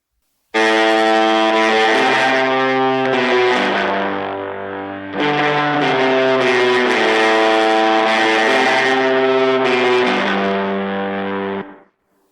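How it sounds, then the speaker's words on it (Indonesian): Distorted electric guitar with reverb, the reverb image leaking slightly to the left, plays sustained chords alone for about eleven seconds, with a brief dip near the five-second mark before resuming loud and steady. "Ya ada reverbnya sih, cuma ini gue kasih imaging reverb bocor ke kiri dikit."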